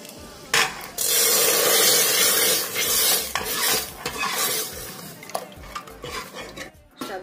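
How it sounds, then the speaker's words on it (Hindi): Hot oil sizzles loudly as dal is tempered, a utensil stirring and scraping against a metal pan, crackling and spattering close up with no voices. "अब हम दाल में तड़के लगाएंगे।"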